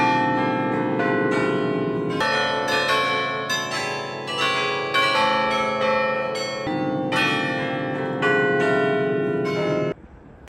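Carillon bells in the Bruges belfry tower ring out a tune, loud overlapping bell strikes in a melodic sequence with long ringing decay, ending abruptly.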